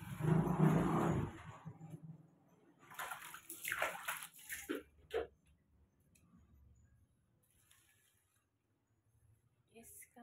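Running water in a bathroom as hands are washed, with a loud splashing gush at first and then intermittent sloshing and trickling, close by. Softer movement sounds follow and fade into near silence.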